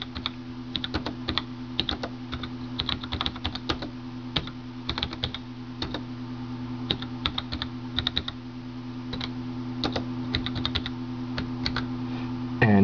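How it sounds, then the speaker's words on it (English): Keys clack on a PS/2 keyboard wired to an AVR microcontroller, tapped in short irregular bursts with brief pauses over a steady low electrical hum, close and moderately quiet. "I press another key and it stops, and I can backspace this, and I can type another message."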